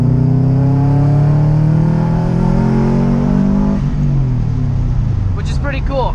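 A car pulls hard in second gear, its loud engine note climbing steadily in pitch before it eases off. Someone speaks briefly at the end.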